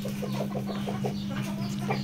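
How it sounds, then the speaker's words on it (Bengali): Day-old Tiger and local chicks peep in a rapid, repeated stream of short calls, fairly close, over a steady low hum. "একদিনের টাইগার মুরগি বাচ্চা, একদিনের দেশি মুরগি বাচ্চা"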